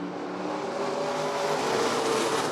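Race cars running a heat at Rockford Speedway, a steady dense engine roar from several cars at mid distance, continuous and fairly loud with no break.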